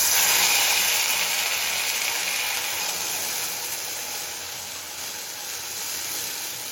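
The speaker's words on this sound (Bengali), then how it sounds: "তেলটা হাই ফ্লেমে গরম করে নিয়েছি এবার একটা বেগুনের রিং দিয়ে দেবো" Stuffed eggplant rings fry in oil heated over a high flame, a loud, continuous hiss and sizzle that holds steady throughout, slightly easing midway.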